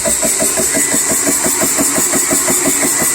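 A PCP air compressor running while sitting on an air conditioner grate, a steady rapid mechanical chugging with regular pulses, loud and close, vibrating continuously without a break.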